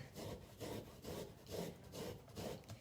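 Fresh ginger scraped on a sharp microplane in rhythmic back-and-forth strokes, about five or six even rasping passes, close and quiet with no talk.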